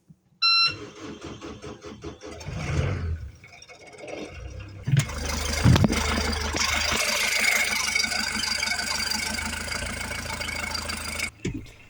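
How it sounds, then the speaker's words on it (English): A yacht's engine cranks and catches, then settles into a steady, loud idle with a rattling rumble and a high electronic beep near the start. "That means it's time to start the engine."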